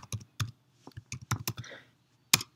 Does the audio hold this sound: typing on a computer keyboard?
yes